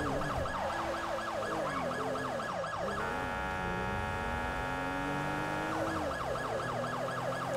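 A police siren in a sheriff roleplay video game wails in a rapid rising and falling pattern, switches to a steady high tone partway through, then returns to wailing, loud and close over a low hum.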